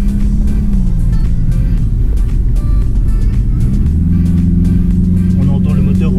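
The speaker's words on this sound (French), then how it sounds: "On entend le moteur ronfler beaucoup plus dans l'habitacle." A BMW 3 Series in sport mode drones from inside the cabin, engine and twin exhaust rumbling steadily and shifting pitch as it accelerates, loud and continuous beneath a voice talking.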